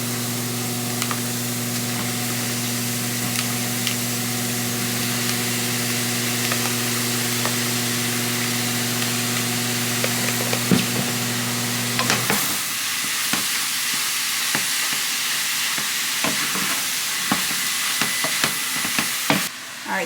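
Shrimp sizzle and fry in a pan with liquid, with a steady hiss and a low hum at first, then scattered scraping and clicking from stirring. No one speaks.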